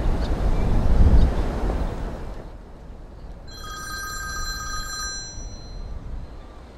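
Telephone ringing with a bright electronic ring starting midway and repeating, after a stretch of windy, rumbling background, fairly close and alone without talk.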